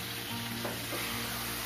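Boiled black chickpeas are added to spices frying in oil in a pan, producing a continuous close, loud sizzle with a brief stirring scrape.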